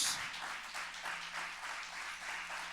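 A church congregation claps together during a worship service, a dense, steady wash of many hands continuing without pause and filling the room.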